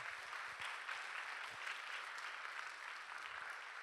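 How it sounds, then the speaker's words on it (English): An audience at a Tzu Chi USA retreat claps steadily in a dense, sustained round of applause, many hands together at close range, with no pauses and no talking over it. "All right, let's give them another round of applause."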